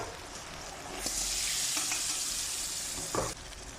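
Squid hits a hot pan of oil and vinegar for adobo, a sudden loud sizzle that swells and keeps hissing close up, with a brief clatter of stirring near the end.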